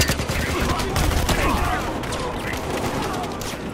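Rapid submachine gun bursts from an MP5K in a video game shooter, a dense, continuous rattle of automatic fire filling the whole stretch with a voice talking over it.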